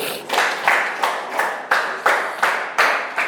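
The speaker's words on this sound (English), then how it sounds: "clap for the group" Children at a school clap together for a classroom group in a steady, rhythmic pattern, about three crisp bursts of claps per second repeating evenly and fairly close.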